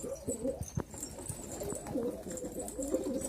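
Pigeons cooing in a loft, several soft rounded coos overlapping close by, with a few light rustles and occasional chirps behind.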